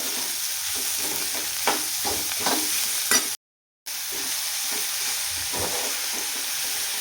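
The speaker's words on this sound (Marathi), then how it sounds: "मीठ टाकून पण छान परतून घेऊया." Shredded cabbage sautéing in a pan with salt, a loud continuous sizzle broken by rhythmic scraping stirs, with a brief full silence partway through before the frying hiss resumes.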